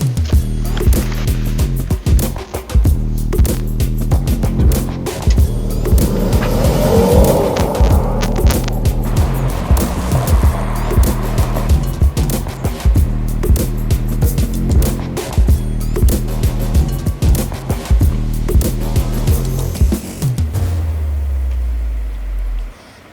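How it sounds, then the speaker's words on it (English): Mercedes E400 car driving along a road, a steady low engine and tyre drone with road noise running throughout, fairly loud and continuous, fading down near the end. "right now we're on the road. It's a little bit noisy."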